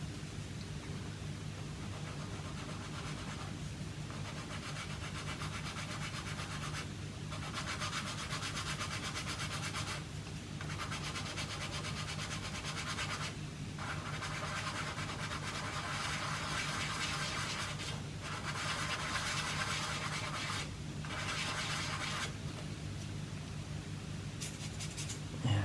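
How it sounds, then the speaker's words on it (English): Sandpaper gently rubs the hull of a 1/72 scale plastic model WW1 U-boat in continuous back-and-forth strokes, close and fairly quiet, with brief pauses between passes. "so I think we're going to have to gently sand it."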